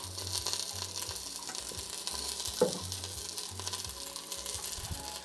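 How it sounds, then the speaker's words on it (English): Steady, hissing sizzle of buttered buns frying in a pan, with a brief clink partway through and a low hum underneath. "Oh, now you can hear them. They're sizzling now."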